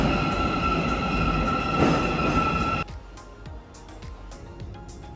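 A metro train runs through Abai station in Almaty, Kazakhstan, with a loud, steady rumble and a high sustained whine. The noise drops suddenly partway through to a quieter rolling rattle with scattered clicks.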